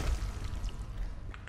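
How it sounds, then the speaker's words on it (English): Liquid splashes and sloshes over hands in the game Resident Evil 7, a faint, close, wet pouring with soft thuds and squishy spatters and no talk. "make weird noises by pouring liquid over your hands"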